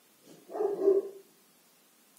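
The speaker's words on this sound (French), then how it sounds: "Ah, ça aboie en bas." A dog barks once from downstairs, a muffled, distant bark that lasts about a second in an otherwise quiet room.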